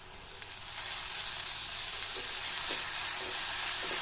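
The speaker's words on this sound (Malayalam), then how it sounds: "നമ്മൾ അരിഞ്ഞു വെച്ച തക്കാളി ചേർക്കുകയാണ് ഇപ്പോൾ ചെയ്യുന്നത്" Chopped tomatoes go into onions frying in a pan for pepper chicken roast, setting off a steady, close sizzle that swells after the first half second and holds loud and even, with faint stirring clicks.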